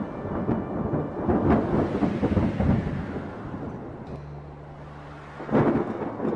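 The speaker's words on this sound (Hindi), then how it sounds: "उनके लिए यह पहली बारिश थी" Cartoon storm scene with heavy rain hissing steadily while deep rolls of thunder rumble loudly through the first half, easing to a low grumble before another sharp thunderclap near the end.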